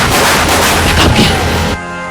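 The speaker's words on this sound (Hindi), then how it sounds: "तभी पुलिस ने गोली चलाई।" Police gunfire rings out as a loud, sustained burst of shots and booms that fills nearly two seconds, then cuts off abruptly into quieter ringing.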